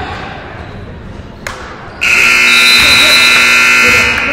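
A loud, sustained electronic buzzer blares to end the first half of a women's college basketball game in an echoing gym, cutting in suddenly over crowd noise and commentary.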